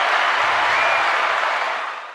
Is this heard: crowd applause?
yes